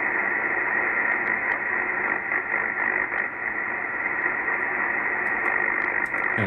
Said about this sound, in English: If the interference doesn't get too strong, the noise blanker cuts it right out.